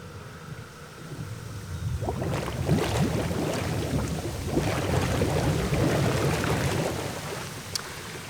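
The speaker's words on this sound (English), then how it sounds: "Just going to hit air blower." Spa air blower switched on from a repaired spa-side controller: a steady rushing, bubbling churn of water and air that swells after a couple of seconds and keeps going, close and continuous.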